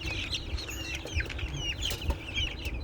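Many 18-day-old broiler chickens cluck and chirp close by, overlapping calls in a busy, continuous chatter with occasional soft thumps.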